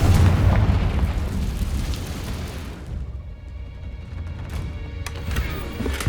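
Confringo spell detonates in Hogwarts Legacy, a heavy, loud explosion with a deep rumbling blast that fades into scattered crackles and falling debris.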